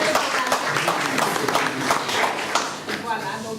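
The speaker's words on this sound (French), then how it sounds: "Applaudissez." An audience applauds at a talk on abandoned children in Senegal: dense, sustained clapping that holds steady throughout at moderate level.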